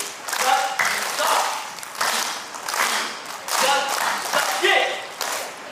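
A group doing a Chinese folk dance claps in time, bursts of hand claps falling in a steady rhythm with short gaps, while voices talk and call out between them.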